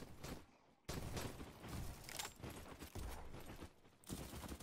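Rapid gunfire in the online shooter Bad Business, quiet and distant, bursts of automatic shots coming in several clusters with short gaps between them.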